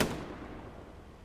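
An anti-tank launcher fires at a distant Panzer IV in the Hell Let Loose video game, giving one sharp, loud blast that decays into a long rumbling tail with no voices.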